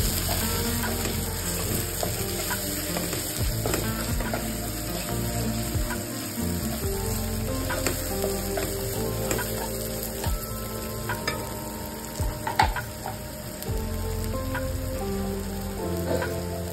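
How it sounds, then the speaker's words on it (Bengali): Ginger and garlic fry in hot oil in a pan as they are stirred for a Bengali-style dish, with a steady loud sizzle and crackle throughout and intermittent scraping clicks from the stirring, close up and with no talking. "এবার নাড়াতে নাড়াতে আদা রসুনের কাঁচা গন্ধটা চলে গেলে আমরা টমেটো কুচিটা দিয়ে দেব।"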